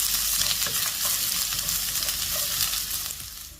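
Onion, garlic and ginger fry in a pan while being stirred, giving a steady close sizzle with scraping stir sounds that eases slightly toward the end.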